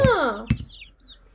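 A farmyard rooster with hens, one loud close squawking call sliding downward, then a sharp short cluck followed by faint chirps in a quiet yard.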